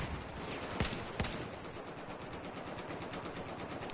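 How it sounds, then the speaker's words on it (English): Battlefield 4 gunfire crackles in sustained automatic bursts with two sharper, louder shots standing out early, all within a dense, steady battle din. "Yeah, I see you shooting at me."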